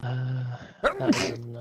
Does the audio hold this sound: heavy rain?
no